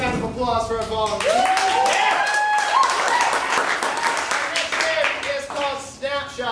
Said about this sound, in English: Big round of applause for our volunteers.